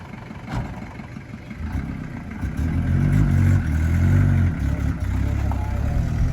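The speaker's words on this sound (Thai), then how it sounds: "ออกตัวสบายมากครับผม ก็เครื่องดีนะครับ เครื่องดีออกตัวสบายเลยครับผม" A fully loaded Tiger dump pickup truck pulls away, its engine clattering at idle, then rising into a louder, steady pull close by.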